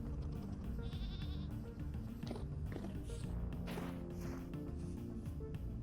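Sheep bleating in the survival video game Vintage Story, a few short bleats over a dense, constant underground mining ambience with low rumbling and game sounds.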